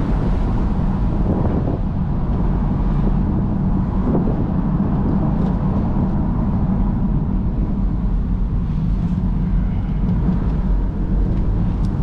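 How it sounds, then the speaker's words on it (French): Small three-cylinder turbo petrol engine of a 2021 BMW 2 Series F23 convertible, rear-wheel drive with sequential mode, drones low and steady while driving, with heavy wind buffeting over the open cabin throughout. "Là on est sur un 3 cylindres turbo essence de environ 136 chevaux de mémoire"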